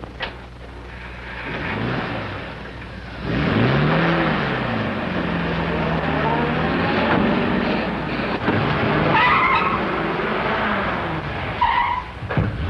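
A stolen car speeds off with tires skidding and squealing, its engine rising and falling in pitch over about twelve seconds, loud and continuous, with a higher screech near the end in a 1940 film scene.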